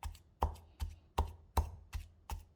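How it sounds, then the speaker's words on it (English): Pestle pounding toasted coconut paste (kerisik) for rendang, seven steady, evenly spaced thuds about two or three per second, close and dull, with no voices. "After 18 minutes of pounding, the coconut paste is quite thick now."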